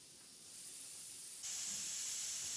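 Steam hisses steadily from a pressure cooker of dal after its whistle, jumping abruptly louder and brighter partway through and then holding a constant rushing spray with no talk.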